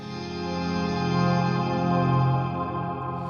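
Sustained, droning ambient electric guitar chord with no delay pedal, ringing with slow swells in loudness, alone and dry, fading slightly at the end.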